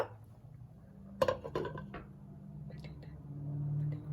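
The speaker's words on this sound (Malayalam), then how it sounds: "ഞാൻ അടപ്പ് വെച്ച് അടയ്ക്കാൻ പോകുക" A metal lid set onto a pot of Kerala-style king fish moli curry: a quiet clink and a few light clatters of cookware, close but faint, followed by a low steady hum.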